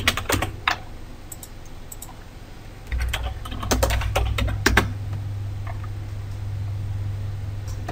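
Someone types on a computer keyboard in a quiet room, clusters of crisp key clicks in uneven bursts over a low steady hum, with no talking.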